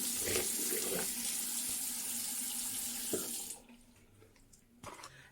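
Water runs steadily from a tap for a few seconds, then cuts off, leaving a quieter room with a couple of small clinks.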